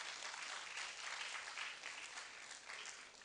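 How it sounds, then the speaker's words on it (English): Audience applause at a national delegate congress, a dense steady wash of clapping from a large crowd lasting the whole moment, fairly even in loudness with no voices over it. "Let's clap for ourselves."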